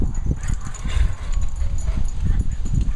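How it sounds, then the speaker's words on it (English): A dog whimpers and gives short yips close by, in uneven bursts over a few seconds, with people talking in the background. "Let me get my dog."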